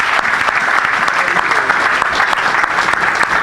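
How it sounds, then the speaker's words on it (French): A church congregation at a revival service applauds and cheers steadily, dense sustained clapping filling the space with voices mixed in throughout. "Tu peux acclamer, tu peux acclamer."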